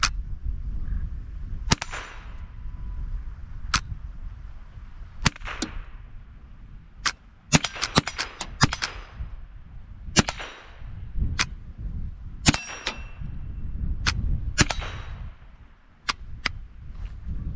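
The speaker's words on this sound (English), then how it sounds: "here I'm going to pull the trigger" A Sears Model 25 .22 rifle gives a series of sharp, loud mechanical snaps and clacks as the trigger is pulled and the action closes. The clicks are irregularly spaced and heard up close, with no talking.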